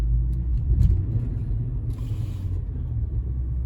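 An Infiniti FX50 on bald tires spins its wheels in deep snow during a snowstorm, giving a steady low engine rumble that swells briefly near the start and then holds at an even level, with no voices.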